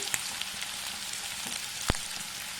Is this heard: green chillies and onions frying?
yes